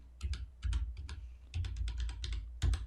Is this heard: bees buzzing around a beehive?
no